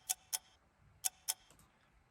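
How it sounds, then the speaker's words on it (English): Crisp, faint clock ticks come in pairs, two quick clicks, a pause, then two more, in a quiet room. "It starts off with a clock noise."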